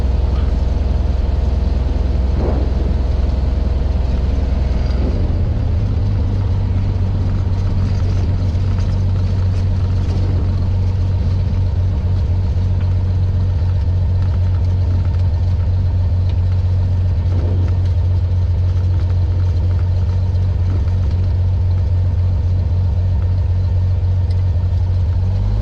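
A Cessna 182 Skylane's single piston engine builds from a low rumble to a steady, loud, droning roar at full power on the takeoff roll, running continuously close by without speech.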